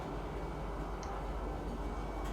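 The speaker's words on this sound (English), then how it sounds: "the train ride to the Central Business District is kind of lengthy" Steady rumbling train interior of a ride through Lorville in the Star Citizen video game, a constant low roar and rattle with a faint high chirp partway through.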